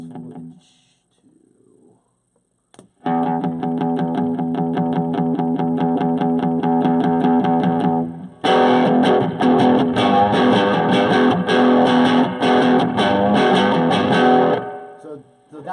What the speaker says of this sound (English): So that gives you more of a distortion sound because the gain's all the way up